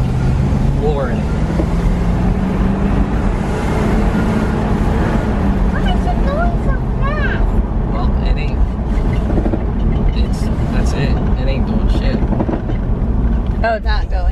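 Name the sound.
1979 Malibu Wagon engine accelerating, floored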